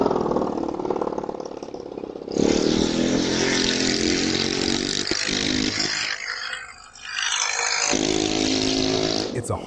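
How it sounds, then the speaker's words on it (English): A motorcycle engine revs and idles close by as it circles a woman at night, the loud droning note rising and dipping with a brief lull near the end, while someone talks over it. "Guy on a motorcycle starts circling a woman, like full on trying to intimidate her."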